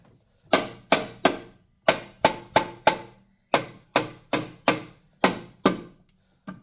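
A Jaguar supercharger from an F-Type/XJ/XF is hammered down onto its dowel pins: about fourteen sharp, loud metallic strikes come in quick groups of three or four, with short pauses between the bursts and nothing else heard.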